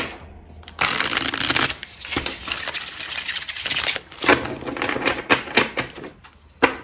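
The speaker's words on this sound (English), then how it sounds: "these are so nice to shuffle" Tarot cards are shuffled up close in crisp riffling bursts, a flurry of papery flicks followed by shorter shuffles and a final tap.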